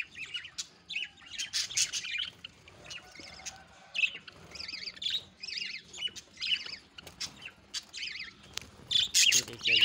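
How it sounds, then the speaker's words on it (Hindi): Small sparrows chirp and squawk in quick, repeated bursts while feeding, the calls fairly close and busy with short pauses between clusters. "ये देखिए भी बर्ड्स, ये लोग अभी बड़े शौक से खा रहे हैं।"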